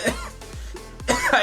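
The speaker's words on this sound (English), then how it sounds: "I actually just needed to cough." A person coughs several times in quick succession, close and loud, each a harsh throaty burst separated by brief pauses, with no speech around them.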